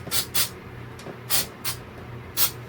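Short bursts of glue activator sprayed onto a 3D printed Super Mario part, four or five quick hissing puffs in an irregular rhythm, close and fairly loud with a faint hum beneath.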